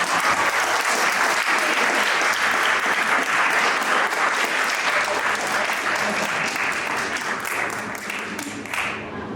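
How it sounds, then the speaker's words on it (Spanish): A large lecture audience applauds at the end of a talk on ethical research practices, with a dense, steady wash of clapping that holds strong for most of the stretch before it starts to taper off near the end. "De nueva cuenta, un fuerte aplauso para Mar Castillo"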